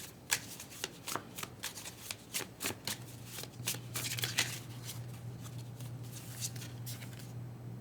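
Angel number oracle cards being shuffled close up, a quick rhythmic series of crisp riffling flutters, then softer sliding and settling, with no talking.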